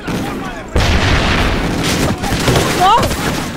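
A loud grenade blast in the shooter game Call of Duty: Ghosts erupts as a sudden heavy boom, then rumbles on with further bangs while a voice talks over the game noise.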